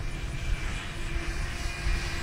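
A Banana Hobby LX Models B-25 scale RC warbler with a 79-inch wingspan flies slowly past overhead, producing a steady, fairly loud twin-engine drone that holds evenly with no talking over it.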